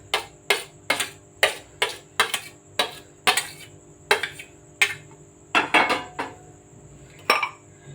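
Chopped tomato, cucumber and onion are mixed in a bowl for a raita, giving a steady series of sharp clinks and taps of a utensil against the bowl, about a dozen strikes close by.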